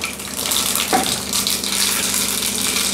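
Mustard seeds splutter in hot oil, a tempering for bottle gourd sambar: a steady, close, loud sizzling hiss with a sharper pop near the start.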